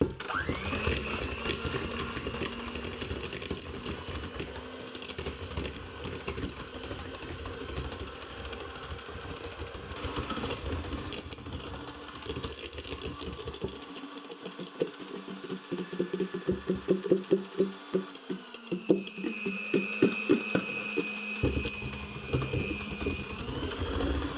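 Electric mixer churning beignet batter in a home kitchen, a steady motor whir running throughout with a heavier, pulsing labored stretch midway as the beaters work the thick dough.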